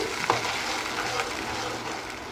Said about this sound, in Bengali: এবার আমি এর মধ্যে মশলার পেস্টটা দিয়ে দিচ্ছি মশলাটাকে একটু কষিয়ে নিতে হবে নেড়ে চেড়ে নিচ্ছি